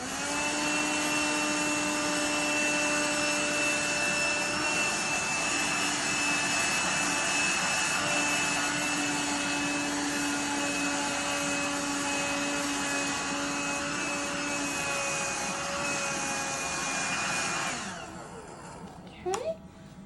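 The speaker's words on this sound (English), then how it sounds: "I'm going to go ahead and get my vacuum." A vacuum cleaner suctions up freshly shaved dog hair from a canine patient prepped for neuter surgery, a loud, steady whine running close and continuous before cutting off near the end, followed by a couple of brief clicks.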